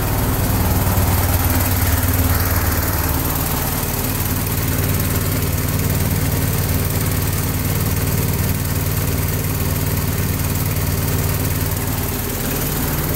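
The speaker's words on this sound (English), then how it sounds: "Load testing the 24 volt generator" A 24-volt generator being load-tested for battery charging, its engine droning loud and steady at close range for the whole stretch with a constant low rumble and no talking.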